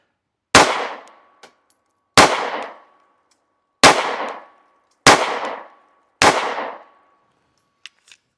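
S&W Bodyguard 2.0 .380 ACP pistol firing 90-grain +P XTP hollow-point rounds at about 5 yards: five sharp, loud shots at uneven intervals, each with a short ringing decay, then quiet.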